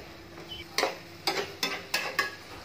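Chopped tomato frying in oil for egg tadka dal, with a soft background sizzle broken by five or six sharp scraping stirs of a spatula against the pan at an uneven pace.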